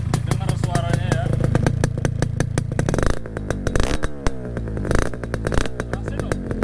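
A Yamaha RX King motorcycle fitted with an Adem exhaust idles nearby with a rapid, crackling two-stroke pulse, then blips and settles into a throatier rhythm.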